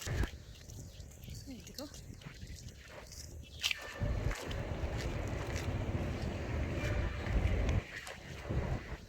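Footsteps walk home along an open road on a hot sunny day, a steady shuffle of steps under light wind noise and someone talking throughout.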